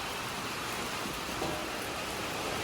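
Steady rain hisses evenly throughout, a dense wash of falling drops with no voices, moderately quiet.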